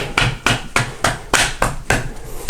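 A hammer taps a Magpul SGA stock part into place on a Mossberg 500 shotgun, with about seven sharp, evenly spaced knocks sounding close and clear.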